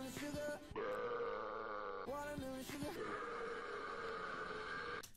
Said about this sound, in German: der rülpst dich einfach an